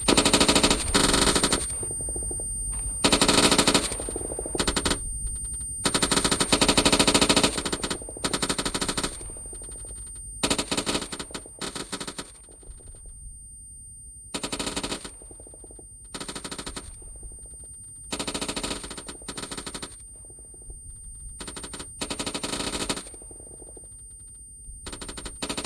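Machine gun fire in Arma 3 during a military simulation machine gunners course, with repeated sustained bursts of automatic gunfire separated by short pauses, loud and close.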